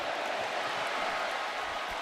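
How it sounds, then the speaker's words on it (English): A football stadium crowd at Oklahoma State versus Oregon roars in a steady, broad wash of cheering from many voices, distant and sustained throughout. "Crowd's going to cheer for themselves."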